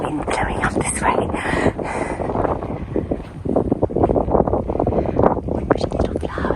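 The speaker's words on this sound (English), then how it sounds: "Oh, there's a harsh wind blowing up this way." Harsh wind gusts across the microphone while walking through a Tuscan village, a loud, steady buffeting rumble throughout, with a person speaking over it.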